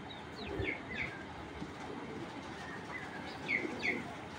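Long-distance racing pigeons in a loft coo softly in a few short, throaty phrases. The calls are faint and close, over a low background rumble, with no voices.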